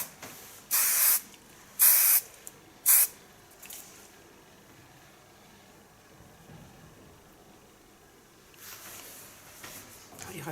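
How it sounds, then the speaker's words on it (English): Hairspray hisses onto a short feminine pixie cut in three sharp, close bursts about a second apart, then a softer fourth burst later, with quiet room sound and faint voices between them. "Just a little bit hairspray."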